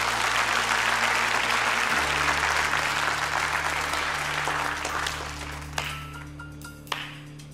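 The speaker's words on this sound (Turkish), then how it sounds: "Alkışlayalım beyefendi." An audience breaks into applause, a dense, sustained round of many hands that gradually thins and fades, with a low electronic hum and a few sharp taps near the end.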